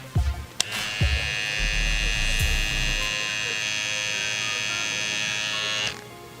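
An Andis Slimline Pro Li cordless hair trimmer switches on after a few handling clicks and thumps, then buzzes at a steady, close, high-pitched whine for about five seconds before cutting off.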